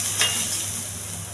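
Ginger and green chilies sizzle in hot oil as a tempering with urad dal is fried, giving a brief, soft, steady crackle with a faint stir near the start.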